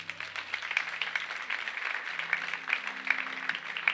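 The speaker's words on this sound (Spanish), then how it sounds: "Dele un aplauso al Señor." A church congregation claps for the Lord, a moderate, fairly faint patter of hands that runs steadily throughout, with a low hum beneath.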